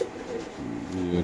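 Pigeons on a pigeon farm, including racing birds and young squabs, give soft, low cooing calls that run close and steady through the whole moment, with a voice faintly present beneath.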